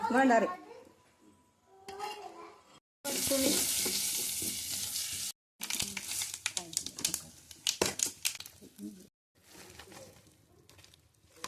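Mustard seeds, curry leaves, onion and ground chilli sizzle and crackle loudly as they are stirred in a hot pan in a home kitchen, with sharp spatula scrapes and clicks, broken by short pauses and a person talking nearby.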